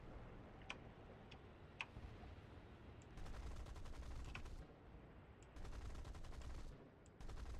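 Rapid gunfire in Star Citizen space combat comes in sustained bursts of ticking shots. Between the bursts there are a few sharper single clicks, all set over a low, steady engine rumble.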